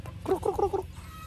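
A brood stag chicken gives a quick run of four or five clucks, close and clear over a low background hum.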